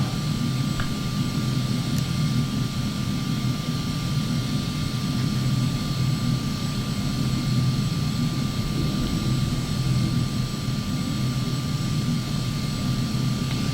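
In Flight Simulator X, the second jet engine of a Phenom starts up, a steady loud turbine roar with a constant whine layered over a low rumble, unbroken throughout with no voices.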